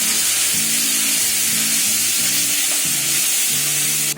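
Tomato gravy poured over fried onions in a pan, sizzling loudly and steadily in hot oil, with intermittent stirring sounds throughout and no talking.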